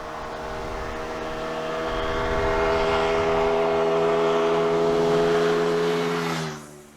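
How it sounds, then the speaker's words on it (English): A 2019 Euro 4 Hyosung Aquila GV125S motorcycle engine drones steadily and loudly nearby, its pitch rising slightly as it revs before cutting off abruptly near the end. "It is the long-awaited 2019 Euro 4 Hyosung Aquila GV125S."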